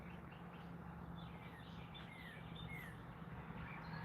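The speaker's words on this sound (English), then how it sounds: "We heard the birds all wake up together." A dawn chorus of wild birds chirping and tweeting faintly at a distance, with scattered short calls layered over a steady low background hum.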